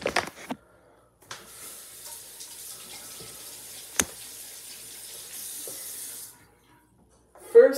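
Running tap water rinses dirt off an old disc at a sink, a steady moderate hiss and splash lasting several seconds between quieter handling noises, with a louder clatter near the end.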